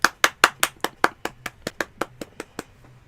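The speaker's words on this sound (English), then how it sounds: "she gave me the stink eye for waking her up with my clapping" A single person claps their hands in an indoor room, about fifteen crisp, close claps in a steady rhythm over three seconds, gradually getting softer, with no talking.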